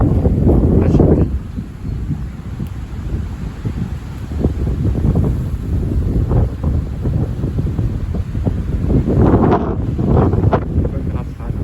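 Strong wind gusts buffet the microphone outdoors under heavy cumulus skies, a loud continuous roar with surging peaks near the start and again toward the end.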